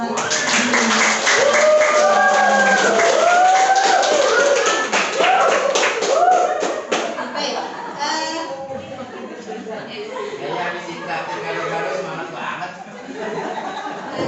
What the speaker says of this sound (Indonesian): Sebelumnya mari sama-sama kita beri aplaus dulu dong